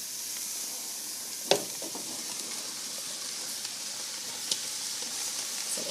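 Fruit tipped into a pan of translucent onions sizzling over heat, a soft steady frying hiss with a couple of faint clicks and a small thump as pieces land.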